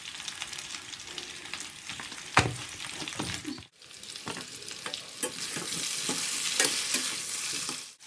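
Food frying in coconut oil in a pan for a Tamil stir-fry of tapioca root with chilli, salt and turmeric, a continuous bright sizzle with stirring scrapes, steady and close, no voices.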